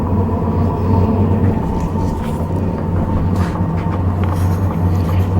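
A Hcalory Max diesel heater ramps up with a steady low rumble and a continuous droning hum, holding an even, fairly loud level throughout with no voices.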